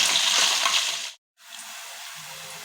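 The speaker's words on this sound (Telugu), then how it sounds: "కట్ చేసుకున్న ఆనియన్స్, కరివేపాకు వేసుకోవాలి. ఆయిల్లో ఇలా ఒకసారి కలపాలి." Chopped onions and curry leaves hitting hot oil, a loud burst of sizzling that cuts off abruptly, then a softer continuous fry hiss close by.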